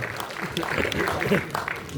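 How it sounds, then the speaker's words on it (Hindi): An audience at a literary society's foundation day gathering claps, a dense, continuous patter of many hands mixed with voices talking over it. "आप तालियां बजाइए इस अनुभव के लिए।"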